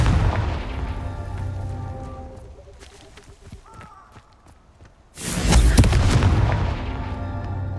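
Fire spell explosions blasting in Hogwarts Legacy on PS5: a rumbling boom fades out, then a sudden loud fiery burst erupts and keeps roaring, with game sound effects in the quieter middle.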